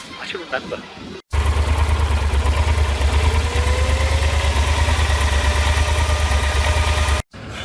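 Car engine idling steadily while stuck in no man's land at the Turkish border crossing, the engine overheating; a continuous low rumble with a faint whine, loud and close, starting after a brief pause and cutting out near the end.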